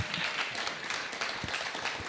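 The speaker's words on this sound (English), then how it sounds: "Round of applause." Audience applause at a music conference, steady crowded clapping at moderate level that runs evenly throughout with no talking over it.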